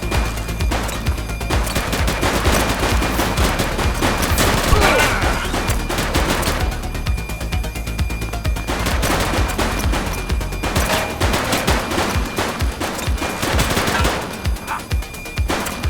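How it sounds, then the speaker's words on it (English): Rapid bursts of gunfire from a suspect in the police game The Precinct, loud clattering volleys repeated in clusters with brief gaps, echoing over a busy street backdrop. "He's shooting!"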